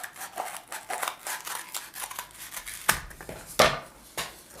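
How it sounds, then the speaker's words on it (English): Scissors snip steadily through material at close range, a run of quick crisp cuts with a couple of sharper, louder snips near the end and no talking. "I'm going to cut it right around here, about 2/3 of the way"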